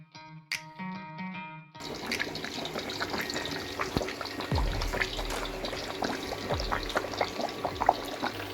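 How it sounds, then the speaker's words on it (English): Watermelon pieces are dropped into hot oil for deep frying, setting off a dense crackling sizzle with scattered pops and bubbling that continues steadily at moderate volume after a brief quiet clink. "Now deep fry the watermelon."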